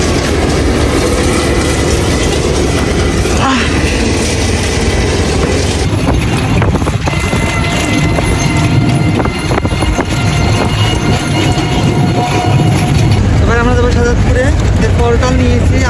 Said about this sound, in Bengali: একটা ট્রেন ধরেছি, ট্রেনটি ধরে আমরা যাচ্ছি তারপরে।